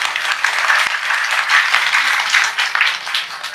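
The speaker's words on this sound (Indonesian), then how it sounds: "Kita tepuk tangan dulu dong buat Pak Wayan." Audience at a gathering attended by Hindu and Muslim guests breaks into sustained, dense applause, a steady wash of many hands clapping with no voices over it.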